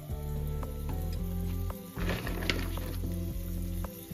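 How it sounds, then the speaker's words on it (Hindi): Frozen Prasuma veg momos pan frying in a spoonful of oil, a steady sizzle that swells into louder crackling midway, over a constant low hum. "ये हमने पैन में डाल दिए एक चम्मच ऑयल के साथ पैन फ्राई करने के लिए"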